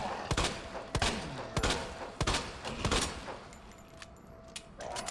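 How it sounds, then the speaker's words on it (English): A rapid string of gunshots fired at zombies' legs in the video game Resident Evil 2 Remake, sharp loud cracks in quick succession, then a quieter stretch with a final shot near the end. "Let's just shoot their legs."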